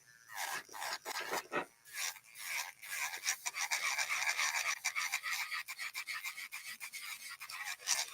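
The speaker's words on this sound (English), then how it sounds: "we're gonna go back with the ceramic beads, medium grit to seal completely, but I'm going to smooth this one in 1 second." A medium-grit ceramic nail drill bit smoothing an acrylic nail: close, quiet rasping and buffing strokes in a quick, irregular rhythm that run continuously throughout, with no talking.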